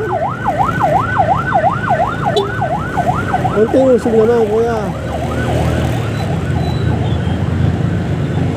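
An ambulance siren wails loudly and steadily in heavy city traffic, its rising and falling tone cycling fast before a second warbling siren joins, with engine rumble and someone speaking briefly.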